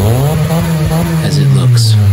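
A Honda Fit with a swapped muffler idles and blips close by, a loud raspy exhaust drone that rises in pitch, with a person talking over it.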